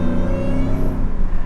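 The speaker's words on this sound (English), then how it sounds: "This, you're hearing a whine and you have instant torque and power with that throughout the RPM" A 750 HP supercharged Shelby F150 pickup accelerates with a close, loud engine drone and rising supercharger whine, heard briefly from inside.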